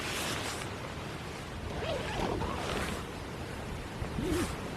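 Wind gusts buffet a tent on an exposed ridge during a storm on the Ridgeway trail near Uffington Castle, a faint, continuous whooshing rush that swells and eases.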